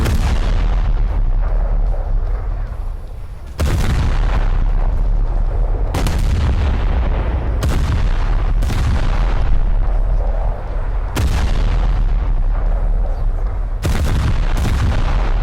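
Naval guns on a light cruiser in War Thunder fire about seven heavy booming salvos at irregular intervals, each a loud blast with a long rumbling decay, over a steady background of ship and engine noise.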